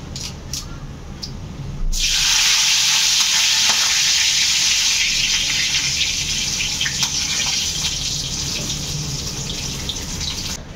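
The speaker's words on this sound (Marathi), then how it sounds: "थोडे जिरे असे चटचटू दे. जिरे मस्त चटचटले की मग मी टाकेन ताजा कढीपत्ता." Cumin seeds splutter in hot oil, a sudden loud hiss after about two seconds that settles into a steady crackling sizzle, close and continuous, with no talking.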